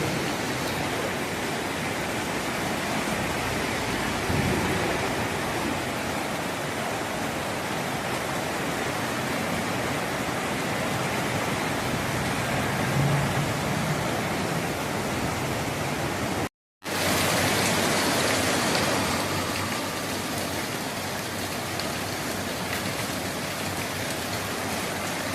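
A creek flooded by Cyclone Alfred rushes over an island in a steady, loud, broadband roar of churning water, unbroken apart from a momentary cut partway through.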